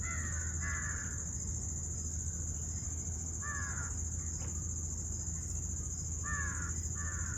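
Crows caw repeatedly in a quiet forest, several harsh calls in short pairs spread across the clip, moderately near, over a steady insect-like hum and background hiss.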